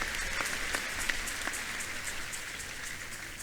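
A church congregation applauding in a steady, dense wash of clapping with a few sharper individual claps near the start, heard from a middle distance with no voices on top.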